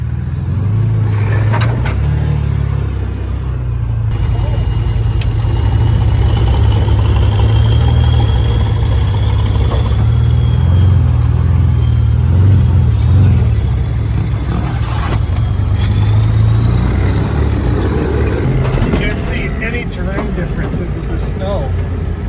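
A 5,000-pound diesel stub truck runs in sand dunes, its heavy low engine rumble steady and loud throughout, with voices talking over it.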